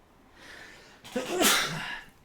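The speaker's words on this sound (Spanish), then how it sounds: "Sabía que iba a estornudar." A single sneeze rings out during study revision, a drawn-in breath building for a second before a sharp, loud burst that trails off, with no talk over it.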